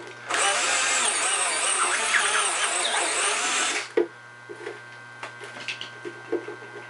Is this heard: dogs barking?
no